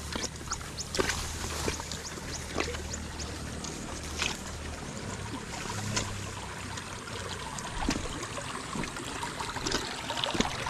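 Irrigation water rushes strongly through a rice paddy, a steady close splashing flow with scattered sharp drips and gurgles running throughout.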